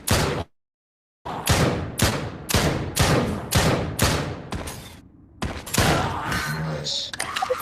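Dual pistols fire in the VR shooter Drop Dead: Dual Strike, letting off a rapid series of sharp, evenly spaced shots. The shots come after a short silence and are followed by a pause and more game sounds, with no talk.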